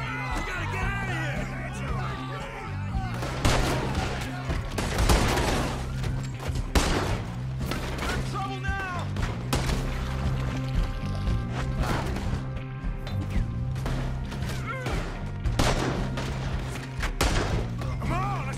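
Gunfire rings out in Red Dead Redemption 2 during a chaotic escape, sharp bursts and thuds scattered among yelling voices and a busy crowd, loud and dense throughout.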